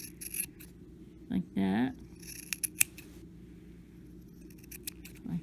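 Scissors snipping and trimming a yarn pom-pom, a few short quiet cuts and rustles spread across a few seconds, with a brief spoken remark in between.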